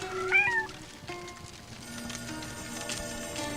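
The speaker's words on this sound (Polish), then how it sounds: "A tu kociak." A cat meows in the video game The Lost Crown, a short rising call early on over steady game music and ambient background.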